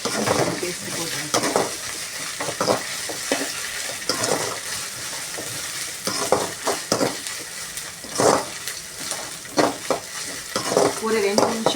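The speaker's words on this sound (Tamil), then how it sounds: "ஒரு 2 நிமிஷம் 2 நிமிஷம் இஞ்சி பூண்டு வாசனை கொஞ்சம் போகணும். அதுக்காக கொஞ்சம் வதக்கிறேன்" Ginger and garlic sautéing in a pan for an egg macaroni dish, with a steady sizzle broken by repeated scrapes and clinks of stirring, close and moderately loud, with no voices.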